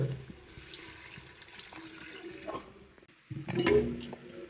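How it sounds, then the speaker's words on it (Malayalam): Water pours and splashes steadily into a metal pressure cooker, swelling into a louder gush near the end, with faint kitchen clatter. "വെള്ളം ഒഴിക്കാൻ പോവാണ്"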